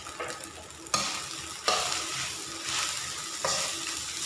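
Rice is stir-fried crisp in a pan over low heat, with a steady hiss of sizzling oil punctuated by a few sharp scraping strokes of the spatula, no talk.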